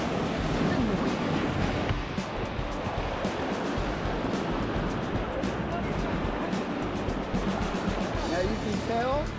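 Whitewater rapids on the Lower Deschutes River roar continuously around a raft, broad rushing water and splashing close by, with people talking over it.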